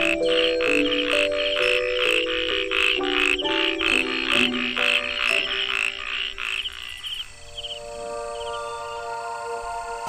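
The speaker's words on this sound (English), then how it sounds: "Resident frogs keep the summer season hopping with their whimsically husky croaks." Frogs croak in a rapid, repeating series of husky calls, loud and near, with a chorus continuing in the background after the calling stops.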